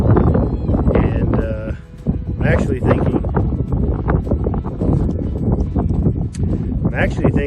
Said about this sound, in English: just standing here, I'm getting hit with wind pretty good